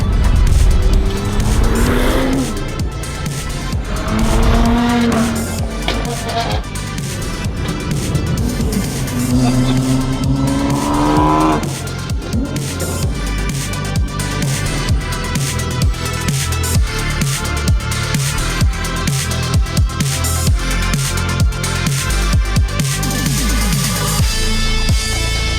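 A Toyota Hiace van fitted with an R35 GTR engine revs hard at night in Tokyo, loud and close, with rising and falling engine pitch, repeated throttle sweeps and crackling pops, while people talk and react over it.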